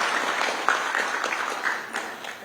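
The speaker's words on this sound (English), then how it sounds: "Another round of applause for our country director." An audience at a formal event applauds with a dense, even patter of many hands clapping, moderately loud and steady, tapering slightly toward the end.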